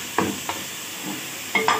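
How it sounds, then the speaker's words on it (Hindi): Tomatoes are stirred into frying masala for a potato and mutton curry, giving a few quick scraping stirs over a soft steady sizzle, close and clear with no voices. "अब इस पॉइंट पे हम इसमें शामिल करेंगे टमाटर। इसको मिक्स करेंगे"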